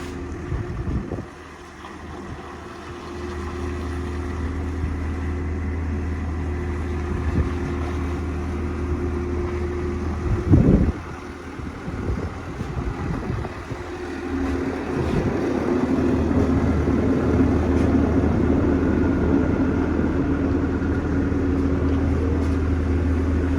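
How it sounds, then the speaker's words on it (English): A skid steer loader running on a farm yard while trailers are worked on, a steady low engine drone with a humming tone that rises and strengthens midway, with a sharp knock around the middle. "Dad running the skid steer."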